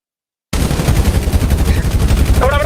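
Video game gunfire starts abruptly after half a second of silence: a loud, rapid automatic burst of closely spaced shots that continues without pause to the end.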